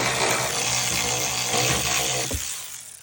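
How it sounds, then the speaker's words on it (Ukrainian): A power tool, likely an impact wrench, works loose seized suspension bolts on a Ford Focus, a loud steady whirring hammer for about two seconds before it stops with a clunk. "Переставляємо стійку, підстукуємо і відкручуємо."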